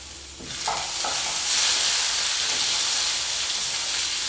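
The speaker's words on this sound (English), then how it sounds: "be careful because you can actually hear the sizzle" Garlic and chilies sizzle in a hot frying pan, a loud steady crackling hiss that swells as the food is stirred, close and continuous with no talking.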